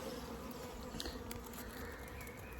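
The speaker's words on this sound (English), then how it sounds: "The bees are now going in and out." Steady, dense buzzing of many bees near a hive, a continuous drone with no talking.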